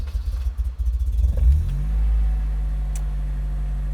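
A cold supercharged Honda S2000 with 51,000 miles fires up, a loud close engine rumble and brief rev settling into a steady, even idle with no one talking.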